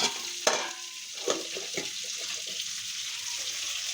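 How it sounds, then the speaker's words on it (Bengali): Fish fries in a pan of hot oil, giving a constant sizzling hiss with a few louder spits and crackles early on. "মাছটা ভাজা হচ্ছে,"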